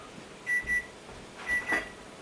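A microwave oven's beeper sounds in a kitchen while wheat boils for thermos cooking: two pairs of clear, high electronic beeps, evenly spaced, close and moderately loud over a quiet background.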